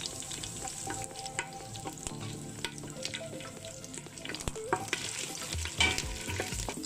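Curry leaves and lemongrass stalks frying in oil in a pan for mee kari, a continuous close crackling sizzle with scattered pops and spatters throughout, no voices.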